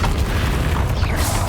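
Booming spell blast from a Bombarda cast in the Hogwarts Legacy video game, a dense, loud low-end rumble sustained without pause and layered with mechanical clatter, no voices present.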